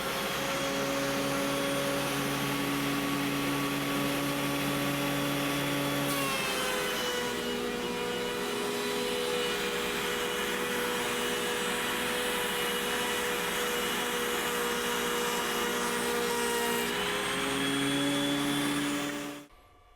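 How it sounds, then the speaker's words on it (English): A benchtop wood planer shaves about a millimeter off a board, its loud, steady motor roar dropping in pitch and straining while the board feeds through for roughly ten seconds, then spinning freely again before abruptly stopping. "Let's run this board through and see if we get a millimeter off."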